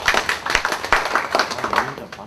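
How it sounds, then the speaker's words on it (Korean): Union delegates at an extraordinary general meeting clap after a vice-chair election result is declared, uneven bursts of hand claps mixed with prominent voices talking over them. "박수 한번 주시기 바랍니다"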